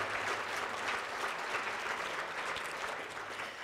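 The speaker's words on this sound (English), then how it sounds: "Please join me again in giving one final round of applause to all of tonight's award recipients." A ceremony audience gives a final round of applause to award recipients at a hotel and conference center, a dense, continuous wash of clapping from many hands that holds steady throughout.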